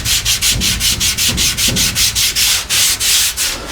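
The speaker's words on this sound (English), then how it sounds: "And that stuff sands like butter." A sanding block rasps rhythmically over filler on an MGA car body, about fifteen steady back-and-forth strokes, loud and close, with no voices.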